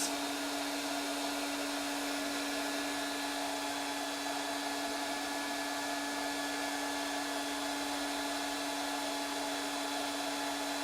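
A Makita cordless heat gun blows hot air in a constant, even whoosh with a steady whine. It runs alone and unbroken throughout, with no talk.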